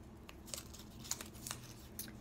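Reading cards being shuffled by hand, soft papery riffling and flicking strokes at close range, quiet and continuous with no talking.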